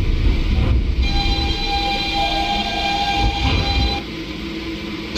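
Simulated R152A subway train on the 4 line running through an underground station in the OpenBVE train simulator, a steady loud rumble of wheels and motor with a sustained high whine and tonal hum throughout, no voices.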